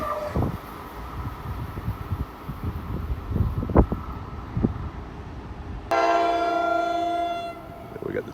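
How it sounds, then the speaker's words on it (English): A New Jersey Transit train arriving at New Brunswick rumbles and clatters with scattered knocks before a loud, sustained horn blast kicks in near the end and holds. "New Jersey Transit. Coming here for a stop in New Brunswick."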